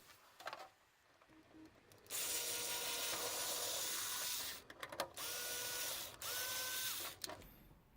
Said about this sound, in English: I have my finger on the back side of the hole so I can hold pressure against it while it's drilling and feel when the drill comes through.